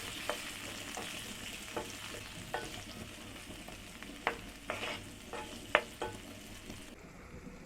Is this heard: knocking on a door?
no